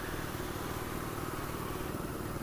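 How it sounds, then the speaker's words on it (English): A BMW R nineT motorcycle with a side-to-side boxer engine idling, a steady low rumbling drone heard close and continuous with no voices. "There's a lot of vibration in the handlebars at idle, and I think it's down to the side-to-side Boxer engine."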